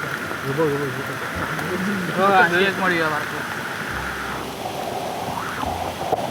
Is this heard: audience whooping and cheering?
no